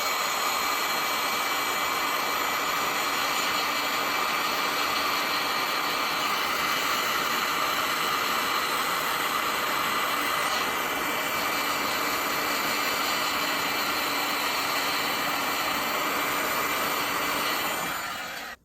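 A heat gun warms an epoxy resin coaster coated with Minwax paste after coming out of its mold, giving a steady, loud, unbroken airy roar that runs for the whole stretch and cuts off at the end.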